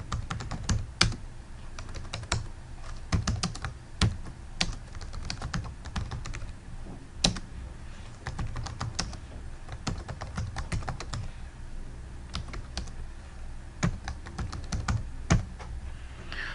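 A SQL query being typed on a computer keyboard, with quick irregular bursts of key clicks and brief pauses, close and fairly quiet, with no talk.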